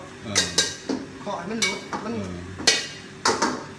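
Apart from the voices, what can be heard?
spatula clanging in a wok while cooking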